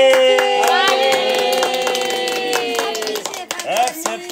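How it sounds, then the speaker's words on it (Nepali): Rhythmic hand claps from a group keep time under a sustained sung or played melody, steady throughout. "ताली"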